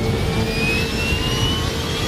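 A jet airliner roars down a runway on its takeoff roll, a steady loud turbine whine with rising tones over a heavy low rumble, close and continuous with no talk.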